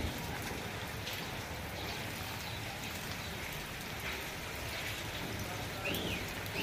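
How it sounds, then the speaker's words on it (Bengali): Steady rain pours down on a cool morning, a dense continuous hiss with faint patter throughout, no voices. "বৃষ্টিটা এই যে"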